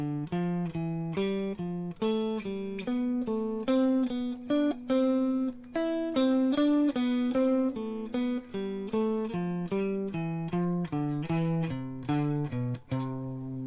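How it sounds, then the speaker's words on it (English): A lead guitar runs through a scale in thirds, picked notes in a steady, brisk rhythm, each one distinct and ringing briefly, played alone at a moderate, even volume. "Something I really like to do is play the scale in 3rds"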